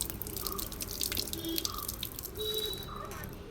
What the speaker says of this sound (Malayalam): നമുക്ക് ഈ ഒരു മാങ്ങാണ്ടി കഴുകിയെടുക്കാം.